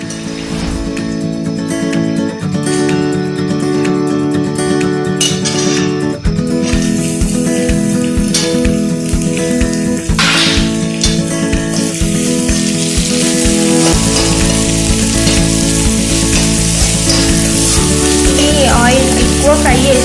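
Onions sizzle steadily in a hot pan for veg momos, a constant frying hiss heard beneath loud background music throughout.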